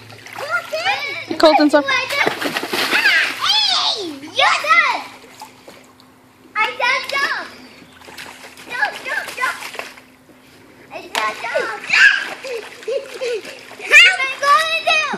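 Children swim and splash in a backyard pool, with bursts of water splashing between loud, excited kid voices and shouts throughout.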